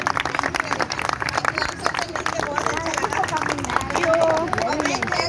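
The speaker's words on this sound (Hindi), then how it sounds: "उसके लिए जरा जोरदार तालियां हो जाए" Audience applause at an outdoor gathering on Juhu Beach, a scattered crowd clapping under chatter and voices, swelling slightly toward the end.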